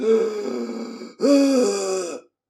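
A voice imitates two long, harsh, rasping breaths, a drawn-out inhale followed by a louder gasping one, close and strained.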